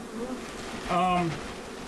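European honeybees buzz around a hive in a shed infestation, a close droning hum with one bee swelling louder as it passes near, over softer background buzzing.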